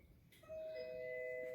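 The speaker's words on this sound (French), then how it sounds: "et que vous entendiez la sonnette." A doorbell at an entrance threshold rings once with a clear sustained electronic chime tone that rises in and holds, set against a low background rumble.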